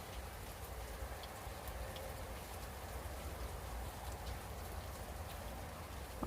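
Heavy rain falls outdoors with water running down a road into drains, a steady soft hiss of rainfall with faint scattered drips, continuous and fairly quiet throughout.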